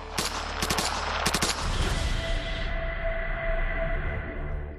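An M14 combat rifle fires several rapid bursts of sharp, loud shots, followed by a long ringing echo that fades away.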